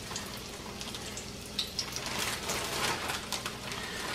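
Breaded chicken of the woods mushrooms fry in moderately hot oil with a continuous soft sizzle, plus a few sharper pops and crackles as pieces settle in, close and alone.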